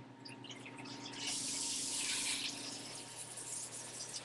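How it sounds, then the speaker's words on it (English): A replacement sump pump runs steadily as it pumps out the last of the water, making a faint, even hiss and gurgle with a low hum underneath and a rush of water that swells midway. "I want to run the pump one last time to get as much water out as possible"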